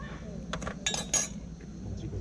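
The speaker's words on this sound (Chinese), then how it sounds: "现在应该可以打蛋了" At a lakeside campsite, eggs are cracked into a pot: several crisp, close clinks of shell and utensil against metal in a quick cluster, followed by a short hush.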